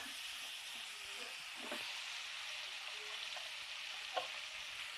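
Pumpkin and spices with a bay leaf sauté in a pan, giving a soft, steady sizzle and hiss with a few faint scrapes of stirring, no voices.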